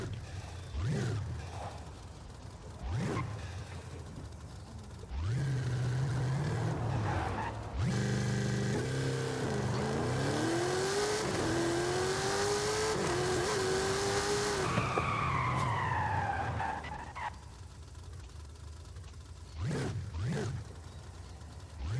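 A 1983 GMC Vendura van with 1750 horsepower in Forza Horizon 5 revs hard, its engine rising and falling through shifts while tyres squeal in long skids, loud and close, with quieter idling stretches at either end.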